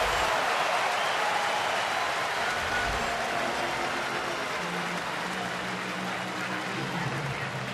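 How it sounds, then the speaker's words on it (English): A baseball crowd at the Pirates at Braves game in Atlanta keeps up a steady, dense roar of cheering, loud and unbroken across the whole stretch, with no clear voice standing out. "Two outs. Listen to this crowd."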